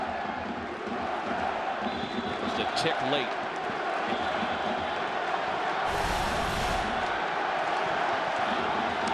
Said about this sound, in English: Crowd making as much noise as it has all night long.